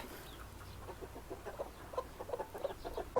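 Gurk chickens cluck softly on a farm during a break from breeding, a faint scattered run of short clucks that grows busier toward the end.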